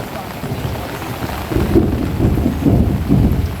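Heavy rain pours steadily, and deep thunder rumbles roll in partway through, close and loud.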